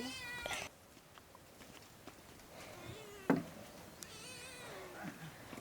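A cat meows a couple of times, soft and drawn out, over a quiet outdoor background with no talking.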